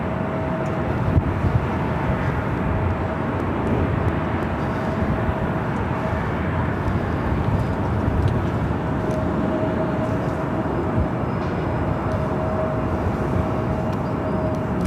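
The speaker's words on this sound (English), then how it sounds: "We do have a China Airlines cargo flight 5138 coming from Taipei, a 777 freighter crossing above us here." A China Airlines Boeing 777 freighter passes overhead at LAX, a broad, continuous jet roar with a faint steady tone, fairly loud and unchanging throughout.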